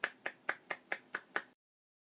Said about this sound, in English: This is the sound of one hand clapping.